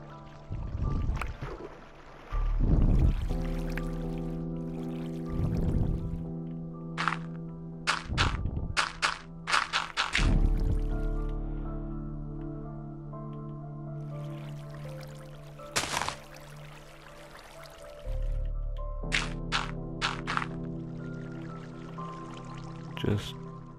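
Water poured into a castle moat in Minecraft, heard as several short splashing pours and drips spaced across the stretch, with blocky clicks and thunks between them, moderately loud.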